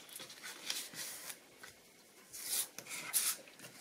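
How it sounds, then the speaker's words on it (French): Paper folds for a beginner scrapbooking mini album are creased by hand. Soft, close rubbing and sliding strokes come in short bursts with brief pauses between them, quiet and without speech. "Je vais marquer les plis."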